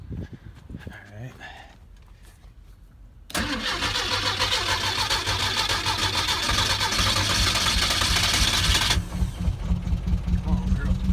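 A 1971 VW Super Beetle with automatic stick shift, started from cold with the choke set: brief cranking and ticking after a quiet pause, then the air-cooled engine catches and idles loudly and steadily before cutting back, with faint speech early on.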